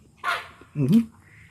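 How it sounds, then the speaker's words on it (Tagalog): A dog gives two quick, sharp barks close by, separated by a brief pause, with a quiet background. "Aso, ang ingay."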